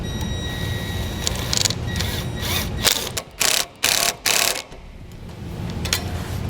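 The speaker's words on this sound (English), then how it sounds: "You need a 5/16 bit driver or socket and start snugging that on down." Socket driver snugging down a 5/16 bolt on a trailer hitch wiring bracket during a Roadmaster 7-wire to 6-wire Flexo-Coil kit install, heard as bursts of close ratcheting clicks with short pauses between.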